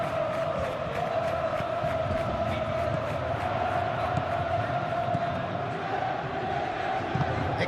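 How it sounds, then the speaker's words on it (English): A large stadium crowd before kickoff in Football Life 26 keeps up a constant dense roar with chanting and whoops, steady and enveloping throughout, with faint commentary under it. "We have a hugely expectant crowd here."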